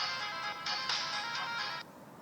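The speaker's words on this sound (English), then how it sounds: "That's my ringtone." An electronic phone ringtone plays a bright, repeating melodic pattern for about two seconds, then stops abruptly; clear and close.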